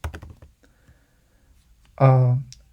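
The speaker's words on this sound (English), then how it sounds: "whenever I'm typing here some string" A quick flurry of computer keyboard keystrokes clatters at the start, then fades to near silence before a brief voice sounds near the end.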